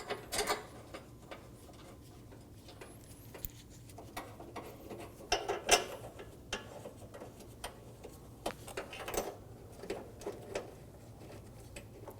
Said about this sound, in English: Go around and snug down all of the bolts. Make sure they're all nice and snug.